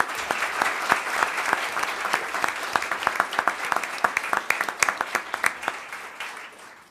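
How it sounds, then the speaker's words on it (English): An audience at a school board of education meeting gives a round of applause, sharp individual claps from a modest crowd ringing out clearly, building then tapering off to silence over several seconds. "So Deb, let's give her a round of applause."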